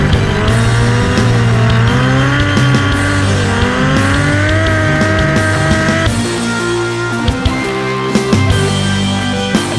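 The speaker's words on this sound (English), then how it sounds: "At this point you slam on the gas pedal, and instead of running wide or spinning, Mika engaged a full opposite lock" A BMW E30 M3 Touring drift car slides hard with loud, sustained tire squeal over a roaring, revving engine, close and continuous throughout.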